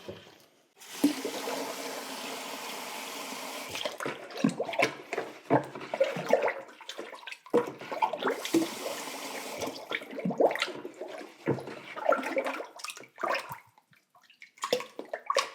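Tap water runs and splashes while a tube is rinsed clean during mixing of a floating blue pottery glaze. A steady close stream plays first, then comes a broken series of uneven splashes and gurgles, with no talking.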